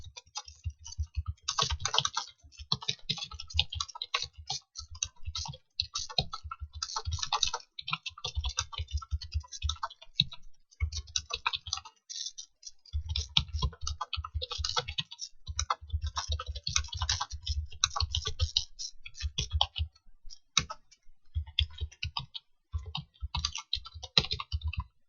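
Computer keyboard typing while a word goes into a table cell during a word-processing lesson, with steady bursts of key clicks across the whole stretch, close and clear, broken by a few short pauses.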